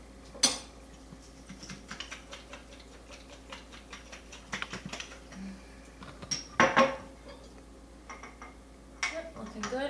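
A utensil stirs eggs in a pan, giving scattered, sharp clicks and scrapes at an uneven rhythm over a quiet background, with brief murmured speech.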